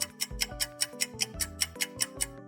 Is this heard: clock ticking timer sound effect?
yes